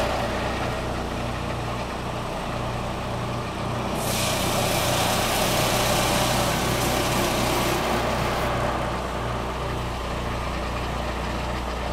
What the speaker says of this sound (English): 10-inch cut with a 25 horsepower IGX 800 Honda engine on it.